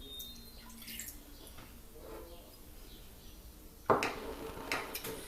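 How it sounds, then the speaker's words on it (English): Fresh lime juice poured into a bowl of apple cider vinegar while making a vegan dressing, giving soft, faint drips and trickles, then a brief sharper splash near the end, with a quiet room tone underneath. "Next, you're going to pour in your 1 lime, juice of the lime."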